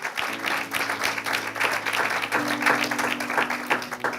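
A church congregation applauds steadily at moderate volume, with sustained organ or keyboard tones underneath and a brief pause partway through.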